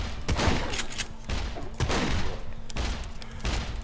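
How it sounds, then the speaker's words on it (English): Distant gunfire from another player in the survival shooter SCUM, several bursts of muffled shots in quick succession with short gaps between them, heard without voices. "I hear him shooting, but it's like..."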